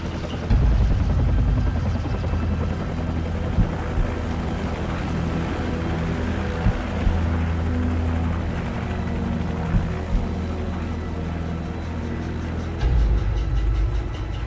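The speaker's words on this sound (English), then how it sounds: "Take out that helicopter, it'll buy us some time" A helicopter in the Call of Duty 4: Modern Warfare sniper mission roars continuously as a loud, dense rotor-and-engine drone, steady throughout with a few brief sharp knocks over it.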